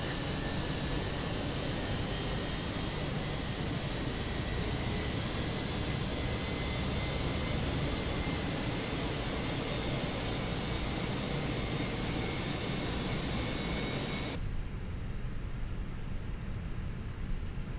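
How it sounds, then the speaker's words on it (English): Fenix A319 airliner engine spooling up in Microsoft Flight Simulator 2024, a loud steady broadband jet roar that holds constant and drops abruptly near the end, with no talking. "So let's get engine 1 going, because why not?"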